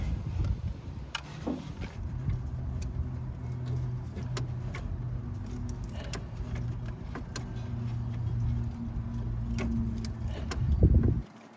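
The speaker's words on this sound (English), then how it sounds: "The engine seems to be turning over fine." A junkyard Toyota Celica engine cranks over steadily with the starter droning continuously, a few metallic clicks and rattles on top, ending with a louder burst near the end.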